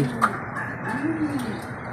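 Soft, low pigeon coos rise and fall close by, a gentle rolling call repeated in a short span with faint outdoor background noise.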